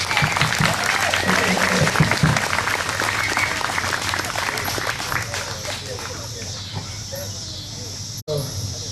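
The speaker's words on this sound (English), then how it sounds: "round of applause for all of the people who served in the military services" Audience applause honoring military veterans at a Ballyhoo Foxtrot Orchestra show, a dense, steady wash of clapping from a large crowd that tapers slightly toward the end, with a brief cut near the close.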